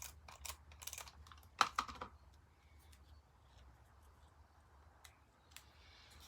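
A tape runner applying adhesive to a paper craft Easter border gives a few quick, close clicks and scrapes early on, then quiet rustling fades to near silence.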